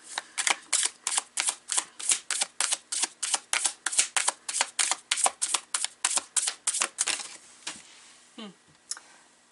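Tarot cards are shuffled in a long, even series of sharp riffling bursts, close and loud, which slow near the end and are followed by a faint voice.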